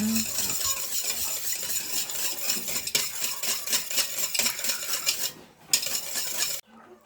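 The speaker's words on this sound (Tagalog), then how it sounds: "Mix natin ulit. Hanggang matunaw ng konti yung gulaman." Dissolved gelatin being stirred into a mamon batter, a continuous bright swishing and clinking of a utensil in a bowl, close and steady, ending in a brief pause and silence.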